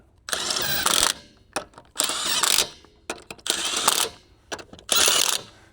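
Lug nuts are tightened on a Polaris RZR Pro XP wheel with a ratcheting tool, heard as four loud mechanical bursts of rapid whirring clicks separated by short pauses.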